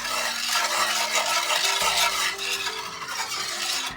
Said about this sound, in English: So I want to mix this up real good.